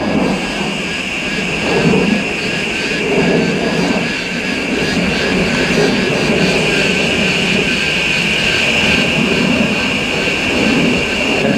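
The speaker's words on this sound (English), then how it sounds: "sorry about the aircraft noise." A loud, steady jet roar fills the whole stretch, a broad rumble with a sustained high whine, as an airliner climbs overhead after taking off from Melbourne Airport.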